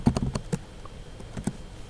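A computer keyboard gives a handful of soft, uneven key taps, close and fairly quiet, with short pauses between the presses and no talk.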